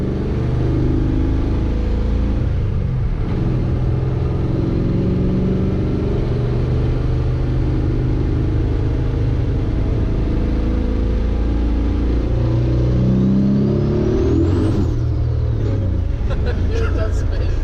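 A 1000 rear-wheel-horsepower car at full throttle, engine revving high with wheels spinning, a loud continuous roar that swells near the end, with voices talking over it inside the cabin.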